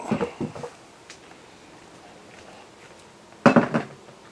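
A bowl being pulled out from among dishes in a kitchen: a short cluster of clinking ceramic knocks at the start, a quiet pause, then a louder rattling clatter of dishes near the end.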